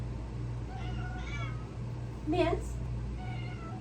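A pet cat named Mr. Kitty meows a few times in a room with a steady background hum, and a voice speaks briefly nearby.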